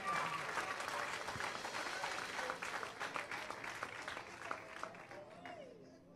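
Sparse, quiet clapping from a church congregation during a sermon, a thin scattering of claps that thins out over several seconds while a voice carries on.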